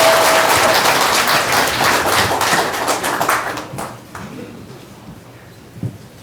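A large crowd of about a thousand people at an indoor political lecture and talk show breaks into loud, dense applause that fades out after about four seconds, leaving quiet room noise and a single thump near the end.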